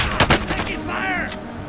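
Loud video game gunfire: a rapid burst of close shots, then a brief whirring, ringing sound and one more shot, with a voice faintly underneath.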